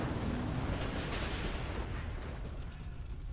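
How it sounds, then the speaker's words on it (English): Train derailment crash in Train Simulator 2020, a loud, dense rumbling roar that holds steady and slowly fades slightly over a few seconds, with no voices. "Now that's a train wreck."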